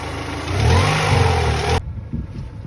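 A 2000 Honda Prelude engine idles steadily and loudly up close while the coolant is being bled, a smooth mid-pitched hum that drops abruptly to a quieter, rougher running sound partway through.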